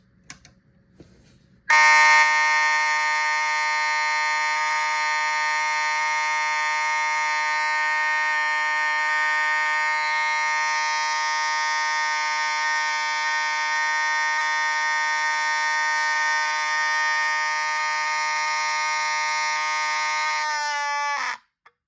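A loud, steady high-output ADT electronic fire alarm horn, aged, blares continuously for about twenty seconds after a brief click, then cuts off abruptly.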